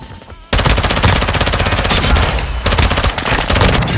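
VEL 46 submachine gun fire in Modern Warfare 2, a loud, close, continuous rapid burst kicking in abruptly and rattling steadily for about three and a half seconds, with no voices over it.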